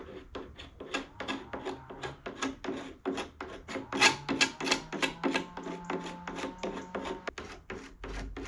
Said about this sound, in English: get the edge of this lead cleaned up down where we're going to weld it, just using a scraper